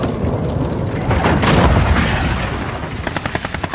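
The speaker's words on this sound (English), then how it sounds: "Allied cruise missile." A cruise missile strike in Call of Duty Modern Warfare lands as a loud, sustained rumbling roar of blasts and debris, swelling in the middle and trailing into a rapid series of sharp cracks at the end.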